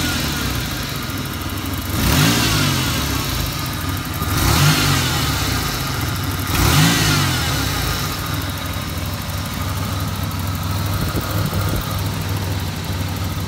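A 1988 Ford Ranger pickup's old engine runs steadily, close by and loud, with three brief revs swelling over the idle early on before it settles back to a constant rumble.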